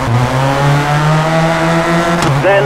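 A Ford Focus rally car in the WRC 4 racing game, its engine holding a loud, steady high drone as it is thrown into a handbrake turn, then a sudden shift in pitch as it revs again near the end.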